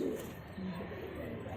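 Green pigeon of an old breed cooing, soft low murmuring coos close by against faint background noise, brief.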